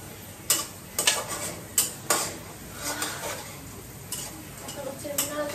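Carrots being stirred in a pan while cooking chowmein, with repeated sharp scrapes and taps of a utensil against the pan over a soft sizzle, close and fairly loud, no talking.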